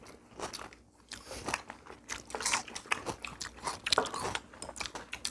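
Crisp biting and chewing of apple pieces during a Korean home meal, a close, wet run of repeated crunches and chews with no talking.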